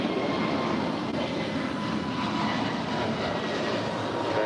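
An ANA Boeing 777 jet taxis at LAX in a steady, loud, broadband engine roar that holds evenly throughout, with no voices.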